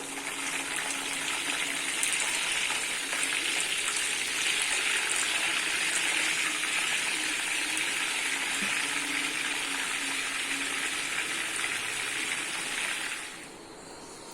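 Chicken kandi gosht frying in a pan after being flipped, a steady, fairly loud hissing sizzle that holds for several seconds, then drops away near the end.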